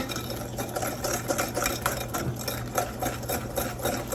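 Pumpkin bread batter gets mixed with vegetable oil, likely by an electric mixer, giving a steady, close whirring hum with rhythmic rattling pulses for about four seconds and no talk.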